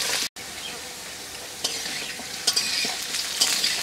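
Potatoes frying in a pan while being stirred and turned until browned, a steady close sizzle with scraping stir strokes and a few brief clicks, no talk.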